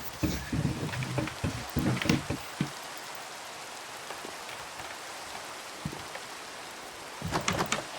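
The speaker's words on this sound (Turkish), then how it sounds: "Arkadaşlar sağanak kar yağıyor." Heavy downpour weather in the Minecraft video game, a soft constant hiss of rain with rumbling, thunder-like bursts at the start and end.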